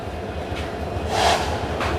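Rumbling train noise at Kamalapur railway station, with a low rolling hum and a brief swell of hiss, heard close by.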